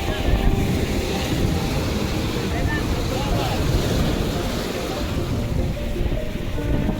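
Strong sea waves breaking at Shimpla Point, a loud continuous rushing surf with heavy wind buffeting the microphone throughout, with no clear pause or separate voice standing out.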